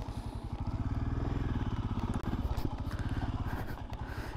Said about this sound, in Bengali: আমি বাইককে ভালোভাবে কিন্তু মুভ করতে পারছি।